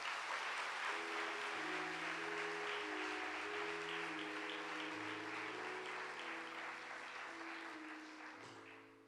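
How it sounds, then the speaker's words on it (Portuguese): A church congregation applauds during a sermon, steady dense clapping that is faint overall, with sustained organ or keyboard chords playing underneath and a gradual fade at the close. "Então aplauda ao Senhor."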